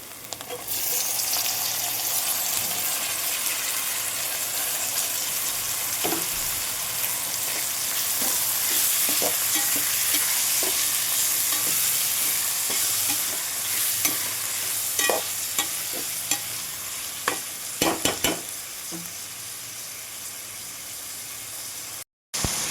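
Tomatoes and onions sautéing in a pan for a prawn masala gravy, a continuous close sizzle with intermittent scraping stir strokes and clinks of the spoon, with no talking.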